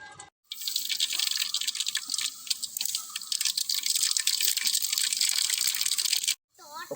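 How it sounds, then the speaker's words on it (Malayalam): Coconut oil pours into a pan over a lit fire in a continuous, close trickle with a bright hiss, broken by short silent gaps at the start and end. "കുറച്ച് വെളിച്ചെണ്ണ നമുക്ക് ഒഴിച്ചു കൊടുക്കാം."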